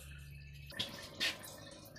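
CVT fluid drips from the drain hole of a 2015 Honda Civic during a fluid change, two faint separate drops landing about half a second apart over low background hum.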